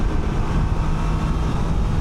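A 2025 Can-Am Canyon three-wheeler in sport mode gives a loud, steady, rumbling engine drone mixed with heavy wind rush, heard close and continuous throughout.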